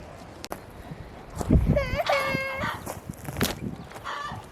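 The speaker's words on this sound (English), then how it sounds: "It's prime laying time right now. That's why you might hear squawking in the background." Hens squawk and cluck loudly nearby in a backyard during laying time, with a drawn-out call in the middle and people talking underneath.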